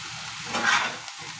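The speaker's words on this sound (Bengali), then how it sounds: "দিয়ে একই সঙ্গে ভাজা ভাজা করে নেব" Aubergine pieces and fenugreek greens fry together in a pan, a steady close hiss of oil that swells briefly in the middle as the pan is stirred, with no talking.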